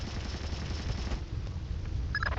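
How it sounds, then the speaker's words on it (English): Gunfire in the stealth video game Splinter Cell: Chaos Theory, a low, muffled rattle of rapid shots heard at a distance, fairly faint and continuous, with a few brief brighter tones near the end. "I'm hearing gunfire down there"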